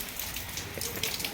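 Heavy monsoon rain pours steadily outside a home, a dense, even hiss of drops close by for a brief moment.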